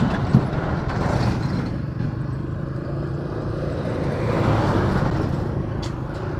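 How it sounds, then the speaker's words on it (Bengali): Motor traffic rumbles past on a rain-damaged, broken road, a continuous low roar of passing vehicles that swells and recedes, heard close with wind noise and no speech. "এই ভাঙা রাস্তার ভিতর থেকে ট্রাক যাচ্ছে, বাস যাচ্ছে, মাইক্রো যাচ্ছে, ইজি বাইক যাচ্ছে"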